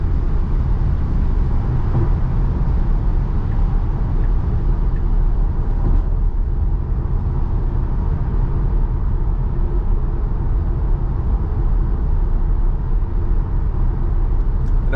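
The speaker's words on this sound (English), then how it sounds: "Now the interior or the cabin noise, I think there's less noise" Steady broadband road and tire rumble inside the cabin of a 2022 Tesla Model Y Long Range on Hankook summer tires at night, a constant low hum with no voices over the whole stretch.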